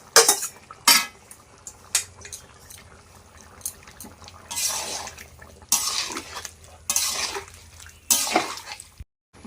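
Fried eggs go into a pot of chicken curry with potatoes near the end of cooking, giving repeated close clatters of a utensil against the pot between quieter stretches of simmering, with no voices.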